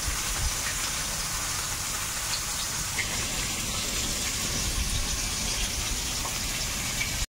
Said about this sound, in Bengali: যে মাছ ভাজা হচ্ছে, আর অনেক মাছ তো আস্তে আস্তে 1 খোলা 2 খোলা করতে করতে ভাজা হতে থাকুক